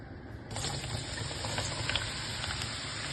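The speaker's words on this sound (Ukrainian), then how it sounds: "Далі викладаємо нарізані шматочками гриби." Sliced mushrooms hit hot sunflower oil in a frying pan, setting off a sudden steady sizzle with fine crackling spatter that holds evenly, fairly quiet and close.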